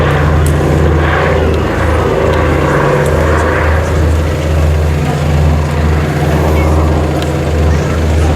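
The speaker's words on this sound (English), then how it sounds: "That particular aircraft is a Canadian Vickers built" A Canadian Vickers-built Consolidated PBY-5A Catalina flying boat drones overhead at the Midland Air Festival 2019, its twin piston engines giving a loud, steady propeller roar with a low throbbing hum throughout.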